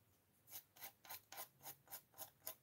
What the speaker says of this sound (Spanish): como estoy utilizando una lija gruesa